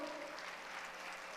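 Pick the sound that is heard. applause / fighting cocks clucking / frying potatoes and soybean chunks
applause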